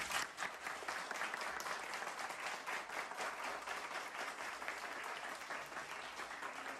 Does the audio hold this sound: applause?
yes